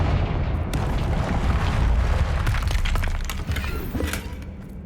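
Fiery Confringo spell blast in Hogwarts Legacy, a booming explosion with crackling, shattering debris that rumbles on for several seconds before fading.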